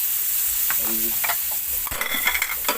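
Tomatoes dropped into onions sautéing in a pan for a pork, shrimp and kikiam dish, a bright steady sizzle with a few soft stirring scrapes and knocks toward the end, nobody speaking.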